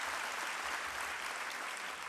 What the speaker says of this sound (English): Will the members of the Academic Senate Executive Committee please stand and join me in a round of applause?